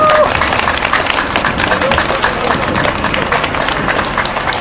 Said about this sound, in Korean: 전현희, 신은직 두 분에게 뜨거운 박수를 보내주시기 바랍니다